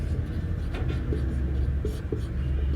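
Pen writing lines of a maths lesson on a board or page, soft scratching strokes under a steady low hum, close and faint, with no clear talk.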